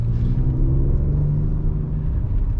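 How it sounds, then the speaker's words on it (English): A 2023 Ford Ranger Raptor drives through a puddle, its engine a loud, close low rumble holding steady while the truck pushes on, with no clear splash standing out. "Puddle, might as well go through it."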